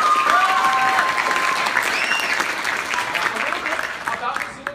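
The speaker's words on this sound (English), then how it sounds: "I want to give you guys a big round of applause for having such fantastic kids." Audience at a Missoula Children's Theater production of Hansel and Gretel in Sundance breaks into steady, dense applause that fills the room and tapers slightly toward the end, with a few faint voices and whistle-like tones mixed in.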